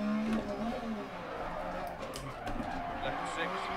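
High-revving rally car engine from the racing game Dirt Rally, a busy, continuous roar with rising and falling pitch and tyre noise, partly under a talking voice.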